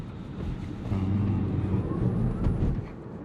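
A 2023 Tesla Model Y in track mode accelerates hard from low speed, heard from inside as a steady low rumble of road and motor noise that swells and holds through the middle before easing slightly.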